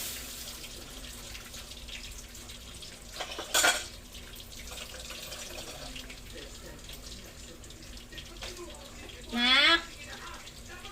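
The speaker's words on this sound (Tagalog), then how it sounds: "Ito naman, hugasin ko. Bababad muna natin yan." Dishes being washed under a running kitchen tap, with water splashing in two brief louder bursts against a quiet background while a voice speaks.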